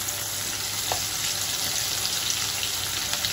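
Sliced onions tipped into hot oil spiced with cloves, cinnamon and cardamom for Kolkata-style chicken biryani, giving a steady, loud, close sizzle that hisses on without pause.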